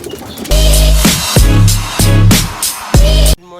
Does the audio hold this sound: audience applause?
no